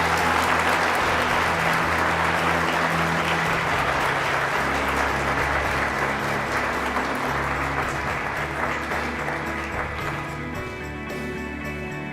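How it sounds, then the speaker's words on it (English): An audience applauds at a vehicle engineering competition awards ceremony, steady dense clapping filling the room for several seconds with no talking, easing slightly near the end. "Please give a round of applause for William Barham, University of Tennessee."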